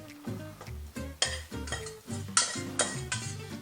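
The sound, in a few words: stirring drained macaroni into cheese sauce pot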